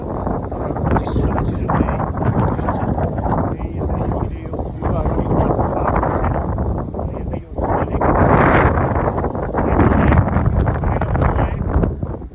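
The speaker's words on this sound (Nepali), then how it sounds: "यति डाँडामा हेर्नु हावा सरर चलिरहेको छ" Wind gusts across a cold hilltop at Dhurba Lake in Mustang, buffeting the microphone with loud, continuous low rumble that swells and eases in waves, while voices talk faintly underneath.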